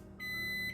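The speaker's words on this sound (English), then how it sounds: "Timer went off" A single steady electronic kitchen timer beep, high and sustained for about half a second, sounding in a home kitchen while pasta cooks.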